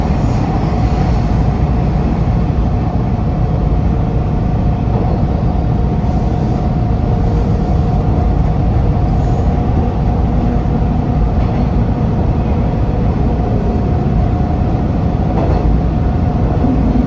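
A green line TTC subway train in Toronto arriving at Sherbourne station, a loud continuous rumble and roar of the train running with a steady high whine throughout.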